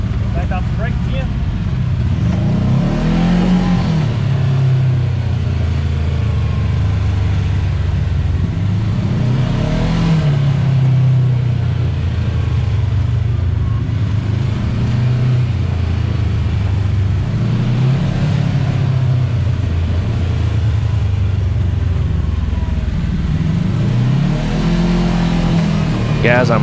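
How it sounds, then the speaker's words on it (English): A Kawasaki KRX ES side-by-side engine revs under throttle while heading downhill, a loud, steady mid-pitched drone that swells and eases in repeated cycles throughout. "I'm literally having to give this thing gas to go down this hill."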